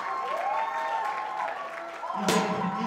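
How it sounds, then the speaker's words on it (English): Guests at a 50th birthday party applaud Pastor Abraham Adesha, a steady patter of clapping mixed with sustained tones and voices, swelling briefly near the end. "We are clapping for a man of God."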